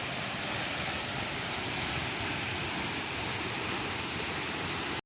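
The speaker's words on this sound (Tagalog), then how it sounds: "ito yung falls kung saan manggagaling dito sa" A waterfall pours down from above, a loud, dense, continuous rushing roar heard up close with no other sounds.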